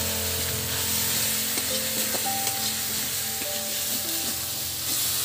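Ground coriander, cumin and pepper are stirred into ghugni in a pan. A steady, close sizzle of frying runs throughout, with light scraping and clinking of the spoon against the pan.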